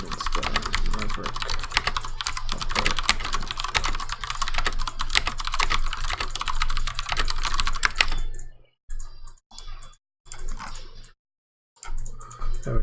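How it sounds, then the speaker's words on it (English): Fast clattering keystrokes on a computer keyboard fill the first eight seconds, then the typing turns sparse with short bursts separated by silent gaps. "they can watch me type terribly"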